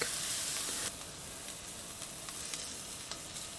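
Onions and garlic sizzle in a hot pan while being stirred for pasta primavera, a steady bright hiss with faint scraping ticks and no voices, louder at first and then settling.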